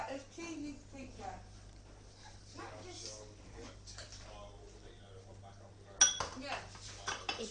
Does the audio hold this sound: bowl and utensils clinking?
yes